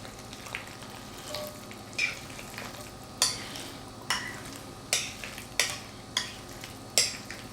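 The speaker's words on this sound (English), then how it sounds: "So let's add our macaroni to our skillet." Macaroni sizzles and fries in an oiled, seasoned cast iron skillet: a continuous close crackle broken by regular scraping stirs and utensil knocks roughly every second.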